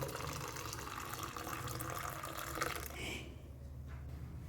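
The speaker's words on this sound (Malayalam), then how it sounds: "ഇനി ഇതിലേക്ക് നന്നായി തിളച്ച പാൽ ചേർക്കണം" Boiled milk pours into strained tea and sugar in a cup for Kerala-style tea, a steady close liquid rush that runs for about three seconds and then quiets to a faint trickle.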